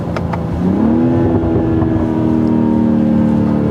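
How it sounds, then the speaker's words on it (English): A 2021 BMW X3 M40i with the B58 straight-six engine, heard close as the revs climb and then hold at a steady, loud drone, with some wind rumble and no talking. "There's something about this engine too. This engine just sounds so good."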